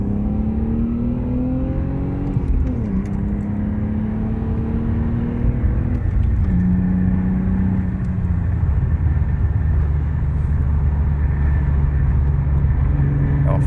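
BMW 320i E36 on a road test, engine pulling through the gears with rising revs and shift dips, a continuous in-car drone with no talking.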